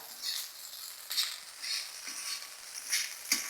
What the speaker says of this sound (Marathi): असा आपण चांगला परतवून घ्यायचा